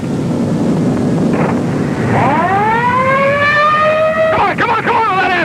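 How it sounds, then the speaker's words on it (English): A 1930s ambulance siren wails, rising and holding steady with clear harmonics, loud and close, over a rumbling background with a voice nearby. "Come on with that ambulance!"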